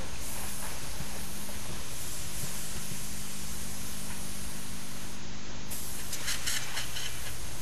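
An airbrush sprays paint onto small skull models, a steady close hiss of air and paint that runs almost the whole time, with one short cut-off near the end and no talking.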